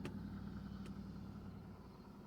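A Chevy small-block car engine idles in a low, even rumble, quiet and steady, with two brief clicks breaking the drone.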